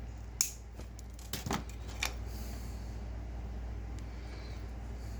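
Scissors snip a plastic part from a Maneater Gargant giant model kit, giving three or four faint, quick cuts close by over a low steady room hum.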